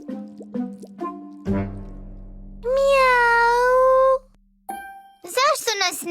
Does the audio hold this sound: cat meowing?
yes